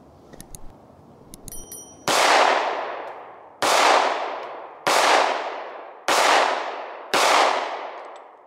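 A Steyr M9 A2 MF 9mm pistol fires five loud, sharp shots at a steady pace, each crack ringing out into a decaying tail, after a few faint handling clicks and rattles.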